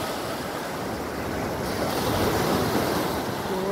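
Ocean waves at Cottage Beach in Nassau, Bahamas, a loud, continuous rush of surf with wind noise on the microphone and no talking.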